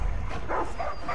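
Dogs in the video game Far Cry 5 bark and yip briefly, a short burst of a couple of close, loud barks with no talk over them.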